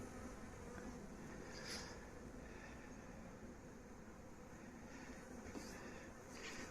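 A honeybee swarm buzzing around a hive as a steady, faint drone of many wings, with louder passes of single bees now and then, no talk.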